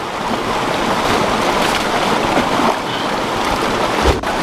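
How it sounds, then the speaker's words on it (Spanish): A mountain stream at a drinking-water intake, water rushing steadily in a loud broadband wash, continuous and close, with no talking. "esta es la famosa segunda quebrada que se coge el agua para el consumo humano"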